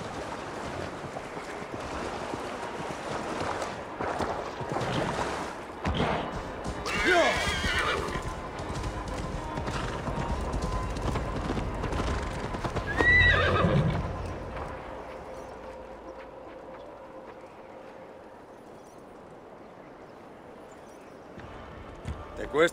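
A horse whinnies loudly amid galloping hoofbeats and rushing ambience in Assassin's Creed Valhalla, with voices speaking over it; the action quiets toward the end.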